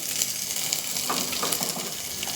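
Ginger and green chilli frying in a mix of ghee and oil with urad dal, mustard seeds, cumin and fennel, a steady close sizzle with faint crackles and stirring throughout.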